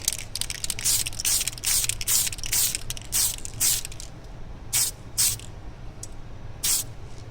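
Spray paint hisses in repeated short bursts while a fading effect is sprayed, many quick passes close together, then sparser spaced bursts over a low steady background hum.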